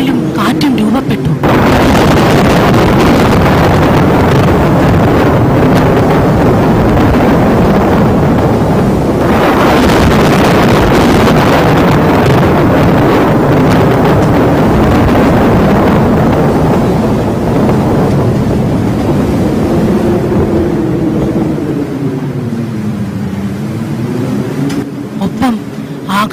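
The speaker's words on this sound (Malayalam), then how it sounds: "പെട്ടെന്ന് ശക്തമായ ഇടിയും മിന്നലും കാറ്റും രൂപപ്പെട്ടു." A storm wind sound effect roars loud and continuous throughout, with a low rushing swell and gusty surges, and a slow wavering drone rising beneath it near the end.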